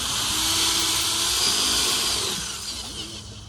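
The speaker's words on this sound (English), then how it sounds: "we're going to drill several holes around the top" A power drill whirs loudly and steadily up close, drilling holes around the top of a vermicomposting tower, its high whine holding for a couple of seconds before easing slightly toward the end.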